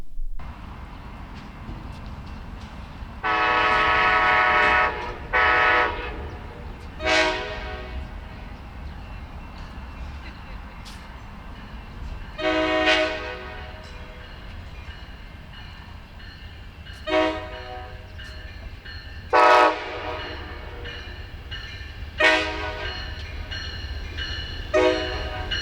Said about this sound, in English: Let's wait for the train, take the train up there,